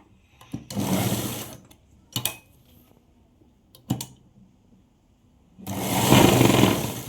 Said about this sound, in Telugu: ఇలా ఒక స్టిచ్చింగ్ అయితే వేస్తున్నాను సేమ్ అలాగే ఇటు సైడ్ కూడా అలాగే వేసుకోవాలి